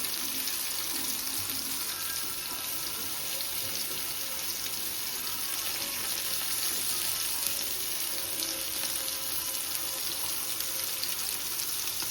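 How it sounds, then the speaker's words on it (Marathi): Fish frying in hot oil in a pan, with prawns cooking alongside: a steady, close hiss of sizzling that runs without a break at an even level, with no voices. "आता आपण मच्छी टाकू तेलामध्ये मच्छी सगळ्यावर सोडून घेऊ"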